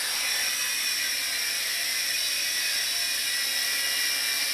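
A Dromida Ominus quadcopter drone flies around a kitchen, its propellers producing a constant, loud, high-pitched buzz close by with no other sound.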